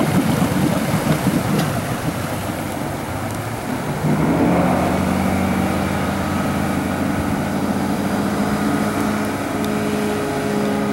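A 2002 Chaparral 200 SSE boat with a 5-liter engine runs on the water, a loud steady motor drone that shifts to a smoother, deeper tone partway through, with water noise around it.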